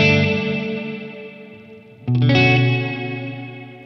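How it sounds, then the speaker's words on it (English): An MXR Reverb pedal in mod mode behind an electric guitar, a decaying chord whose reverb tail wavers with vibrato and chorus shimmer, then a fresh strum rings out loud and starts to fade. "Because there is a pretty noticeable vibrato effect, chorusing effect on the reverb tails there."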